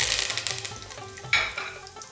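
Curry leaves drop into hot oil with cooked mustard seeds for a vindaloo sauce, giving a bright crackling sizzle at the start, then a sharp fresh burst of spitting partway through before it fades to a quieter fry.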